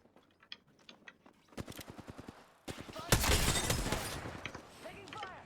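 Video game gunfire, rapid bursts of close automatic shots followed by a longer heavy fusillade with echoing impacts, mixed with clicks and game sound effects.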